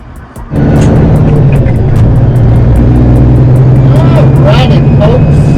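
An agricultural truck with a live bottom walking floor trailer drives along during peanut harvest, a loud, steady engine drone that rises abruptly after a brief quieter start, with some faint rhythmic ticking over the top and no clear talk.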